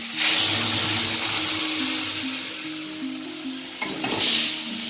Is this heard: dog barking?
no